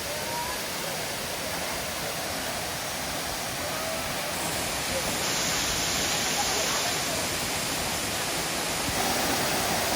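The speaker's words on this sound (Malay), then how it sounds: "Air terjun Aras 6." Steady broadband roar of the level-six waterfall on the Sungai Kanching falls in Rawang, Selangor, a continuous rushing wash of water that holds constant and close throughout, with no voices.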